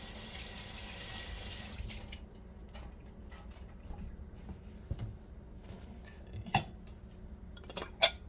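Tap water runs into a kitchen sink while a tomato is washed, a soft steady stream close by, followed by quieter drips and a few light clinks of dishes.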